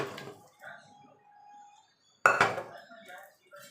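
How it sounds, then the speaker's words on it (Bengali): Papaya and potato pieces tipped into a pressure cooker for Bengali chicken curry: a short clatter at the start, a quiet stretch, then a louder burst of pieces tumbling and knocking against the metal. "এবার পেঁপে আলুটা ঢেলে দেবো"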